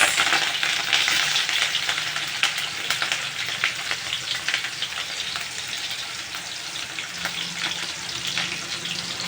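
Chopped chillies and onions frying in a pan with cumin, a close, continuous crackling sizzle with scattered sharp pops and the occasional scrape of stirring, no talking.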